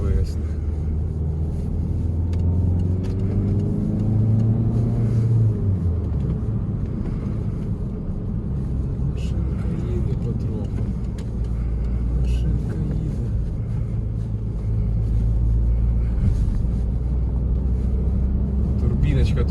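A 2015 Peugeot 308 with a 1.6 diesel engine accelerates as a steady, loud low rumble of engine and road noise fills the cabin throughout, with someone talking over it.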